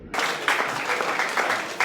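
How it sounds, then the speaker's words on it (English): Audience applause at a comedy show, a continuous burst of clapping from a crowd with swells of cheering, close and fairly loud throughout. "Give it up for Darius one more time. Let him hear it."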